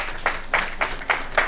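Five slow, evenly spaced claps from an audience at a Pune award ceremony, faint and somewhat distant, with a quiet pause between each clap.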